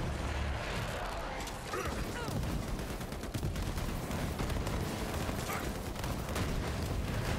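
Dense, continuous rapid-fire gunshots from the video game Borderlands 3, loud and steady throughout with a busy mechanical clatter layered under the shots.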